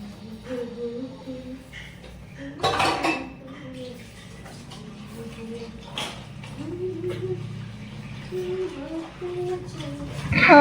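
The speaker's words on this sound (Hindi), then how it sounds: "अब मौसी लगा रही है बर्तन स्टैंड में, टब खाली कर रही है" Dishes, pots and utensils clatter as they are set into a dish stand in a home kitchen and a washing tub is emptied, with scattered clinks and sharper knocks while someone talks throughout.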